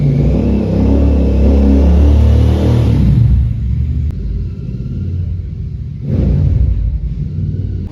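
A Continental GT650 motorcycle with a newly replaced clutch plate runs on a test ride, its engine rumbling loudly, revving and easing off, then surging again near the end, with no voices.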